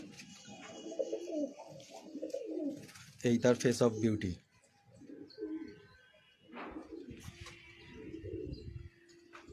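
A pigeon coos in a home pigeon loft, a short burst of soft throaty calls with faint chirps around it, while someone talks close by.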